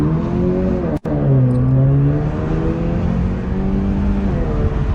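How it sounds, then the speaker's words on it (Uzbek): A sports car accelerates hard from a standstill toward 100 km/h on a test drive, its engine roaring loud and close with rising pitch through the gears and a brief break at a shift. "0 dan 100 gacha qanaqa tezlikda chiqadi va mashinani bitta ovoziga ham baho berasizlar"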